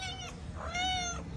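A cat meows twice close by, the first call brief and the second longer and drawn out, with a soft steady background.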